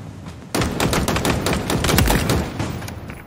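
Rapid gunfire at practice targets in a Halo Infinite tutorial: a loud, continuous automatic burst begins abruptly and rattles on for about three seconds.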